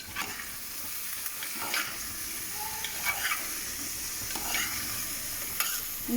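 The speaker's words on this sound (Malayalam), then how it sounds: "ഇനി നമ്മളിതിലേക്ക് കോവയ്ക്ക ഇട്ട് കൊടുക്കാം. നമ്മൾ ഇളക്കി കൊടുക്കാം." Ivy gourd being fried with shallots in a pan: a soft, steady sizzle with repeated scraping stirs at an irregular pace, heard close up and fairly quiet.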